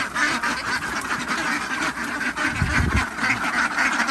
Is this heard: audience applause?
no